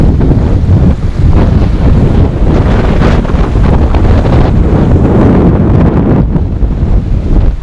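Steady, loud rushing of the Colca River on the canyon floor, mixed with buffeting wind noise against the microphone throughout, dense and continuous with no voices.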